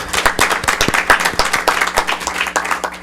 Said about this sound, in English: A round of applause for Desiree for her service.